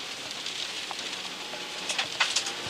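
Steady rain falls during a rally stage, a constant hiss with scattered drops tapping on a car, fairly faint and continuous with no talk.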